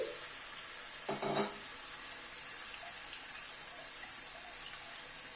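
Tomato and green chili paste fries in a pan with a soft, steady sizzle, broken early by a short burst of stirring, then settling into a quiet continuous hiss.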